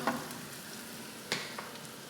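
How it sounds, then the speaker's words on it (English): Onions fry in a hot pan with a steady, close sizzle and crackle. A couple of brief scraping stirs break through the hiss. "So just need a couple of minutes till they're soften up a bit, so the onions brown a bit. The pan is still very hot."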